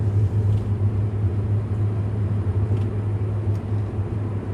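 A Porsche 944 with an LS V8 swap runs with a deep, steady low engine drone and rumble, the pitch holding fairly even as the throttle is worked on and off; loud and close, with no talking.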